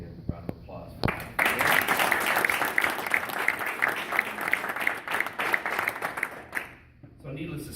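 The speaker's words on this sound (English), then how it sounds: "So, we give a round of applause for him." An audience gives sustained applause for a retiring colleague at a retirement gathering, a full, even round of clapping that swells after a brief spoken line and fades out near the end.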